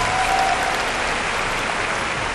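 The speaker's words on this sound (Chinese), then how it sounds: "来点掌声吧。" Audience applause fills an award ceremony for the best Hakka-language singer, a steady dense clatter of many hands clapping at close range throughout, with no talk over it.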